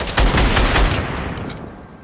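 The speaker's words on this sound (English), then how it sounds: "Oh no, I'm getting sniped from somewhere." Gunfire from a sniper in a shooter video game, a loud close burst of overlapping shots that booms at first and then fades into a lingering echo.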